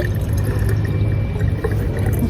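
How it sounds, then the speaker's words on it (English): Sugar nectar water is poured into a handblown glass hummingbird feeder, a steady close trickle of liquid filling the vessel over a low continuous background. "let's fill this in with our nectar water"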